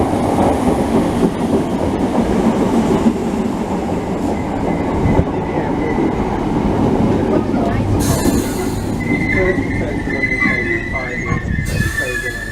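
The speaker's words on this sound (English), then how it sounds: "today we are taking the train around London" A London train rumbles along the rails near Stoke Newington station with steady clatter and occasional high metallic wheel squeals, loud and close, with faint voices in the background.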